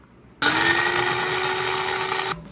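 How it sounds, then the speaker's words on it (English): A food processor grinds about a third of a cup of oats, its motor kicking in suddenly with a loud, high whine that holds steady for around two seconds, then cuts off. "So I'm gonna do about 1/3 of a cup of oats in the food processor"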